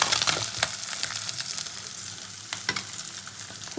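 Gang Khoira fish fry in hot oil, giving a close, continuous sizzle with crackling spatters. There is no talk over it.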